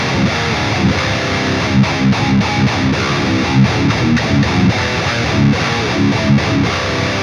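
Loud distorted electric guitar played through a Bogren AMPKNOB amp with a vintage cabinet, chugging palm-muted riffs with rhythmic stops and sharp gaps, thick and saturated, alone with no voices.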